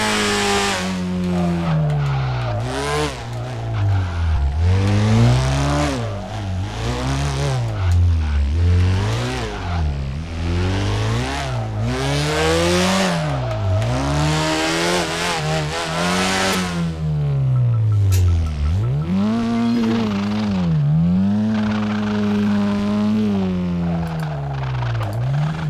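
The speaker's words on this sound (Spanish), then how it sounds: "Que me tapa el sonido del coche" Drift car engine in the video game DRIFTCE, revving hard in rising and falling sweeps with brief tire squeal, loud and close for the whole stretch with no talk.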